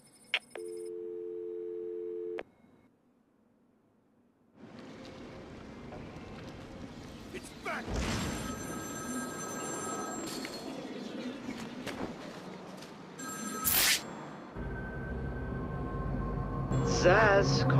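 In Batman: Arkham City, a phone gives a few short electronic tones at the start, followed by layered game ambience, a loud burst around the middle and a rising noisy bed toward the end.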